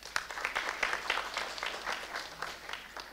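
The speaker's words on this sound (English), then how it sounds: "Applause." Audience applause at a mock presidential debate at the University of Latvia, a fairly faint crowd of hands clapping in an uneven ripple, heard at some distance in a hall.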